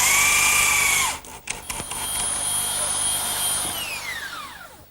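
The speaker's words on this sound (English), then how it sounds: "I think I'll fasten this member with a screw because it'll hold better" A power drill drives a screw into a member of a wooden English garden bench, a loud high whine that cuts off, then a short burst and a longer run winding down in pitch as the screw seats.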